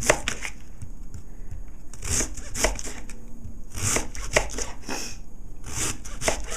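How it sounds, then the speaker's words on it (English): A knife chops through fennel on a cutting board in a steady series of crisp, close strikes with short pauses between bursts, with no one speaking. "And now we're going to cut it into 1/4 inch."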